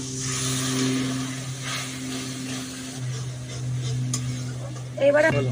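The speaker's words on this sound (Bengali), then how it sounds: "এবার আমি মশলাটাকে একটু ভালো করে কষিয়ে নেব।" Spice paste for a pomfret fish curry sautés in a pan with a steady sizzle and stirring scrapes under a low hum, ending in a louder burst of clattering against the pan.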